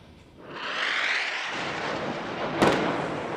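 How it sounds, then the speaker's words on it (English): A single Israeli airstrike on Gaza rolls in as a deep, heavy boom that swells and lingers, followed by a sharper crack, heard at a distance with no talk. "More airstrikes at dawn."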